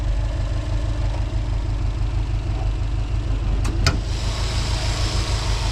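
A 2018 Subaru Impreza STI's 2.5 liter top-mount intercooled engine idling, a steady low rumble heard up close and fairly loud, with a couple of brief clicks partway through.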